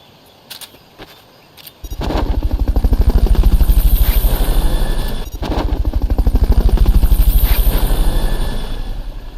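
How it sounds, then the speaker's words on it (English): A helicopter in Metal Gear Solid Peace Walker sits quiet for a moment, then its rotor thumps in loud and close with a steady, fast chopping beat that holds, dips briefly, and surges again. "Fulton recovery subject confirmed onboard helicopter"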